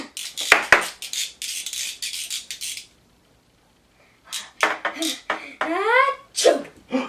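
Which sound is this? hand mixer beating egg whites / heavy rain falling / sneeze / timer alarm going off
sneeze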